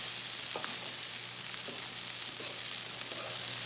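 Frozen Aldi chicken lo mein sizzling steadily in a pan, a continuous hiss with a few soft scraping stir sounds scattered through it, no speech.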